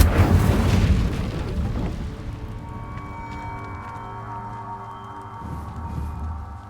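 A fire spell blasts in Hogwarts Legacy: one loud, booming burst at the start, then a sustained roaring, crackling flame with tonal magical hum that slowly fades, swelling briefly near the end.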